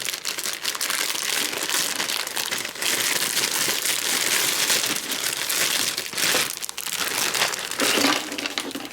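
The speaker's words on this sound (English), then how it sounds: "And it is brand new, so I will be opening the bag here" A brand-new Springbok jigsaw puzzle's plastic bag being opened, loud continuous crinkling and crumpling of plastic close by that runs steadily with brief dips, and no one speaking.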